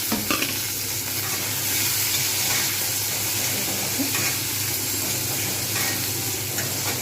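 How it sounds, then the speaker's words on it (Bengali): Onions and tomatoes frying in a pan give a continuous close sizzle with soft hissing steam and occasional stirring scrapes, steady and even throughout with no one talking. "বেশ কিছুক্ষণ ভাজবো এবং একটু নরম হয়ে আসলে"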